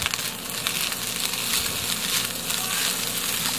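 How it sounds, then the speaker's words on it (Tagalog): Luncheon meat fries in a pan while being stirred, giving a steady, close, loud sizzle with scraping stirs throughout and no talk. "Yan, haluin lang po natin."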